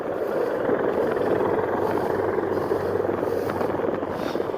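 A giant military helicopter comes in to land, its rotor and engine a continuous loud roar with broadband wash that holds steady throughout, no talk over it.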